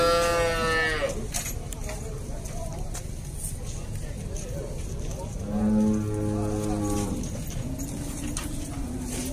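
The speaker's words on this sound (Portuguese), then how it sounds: "Tem uma vaca também aqui." Cattle at a farm in Alagoas, a cow with calves, moo twice at close range, one call at the start and another in the middle, between stretches of people talking and faint birdsong.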